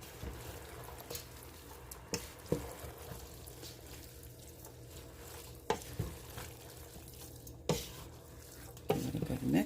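Three bean chili with canned fire roasted diced tomatoes being stirred in a pot, with soft scraping and sloshing against a low simmering sizzle and a few louder clunks of the spoon on the pot.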